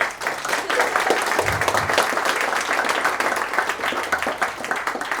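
Loud, sustained applause from an audience at the close of a talk on Brecht and theatre, dense clapping running steadily throughout with a faint murmur of voices.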